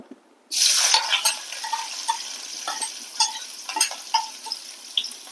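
Shallots dropped into hot coconut oil set off a sudden burst of sizzling that settles into a steady fry, with repeated clinks and scrapes of a utensil stirring in the pan.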